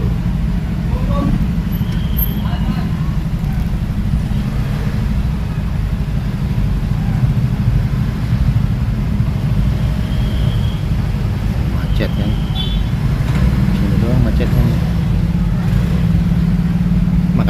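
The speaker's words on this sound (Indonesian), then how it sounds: "Macet doang karena ada angkot" Slow traffic jam with angkot minibuses in Tanjung Priok, North Jakarta: a constant, loud rumble of engines and road noise, with occasional revving and voices heard throughout.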